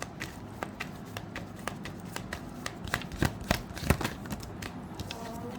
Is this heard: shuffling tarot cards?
yes